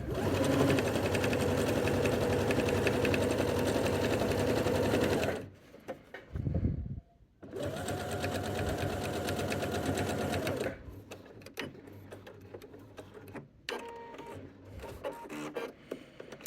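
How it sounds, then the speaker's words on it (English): A Britannia T190/120 sewing machine stitches with a quilting guide attached, running in a steady loud whir, pausing briefly, then stitching again before slowing into intermittent quieter runs and clicks. "You just shift it over and you can start to stitch."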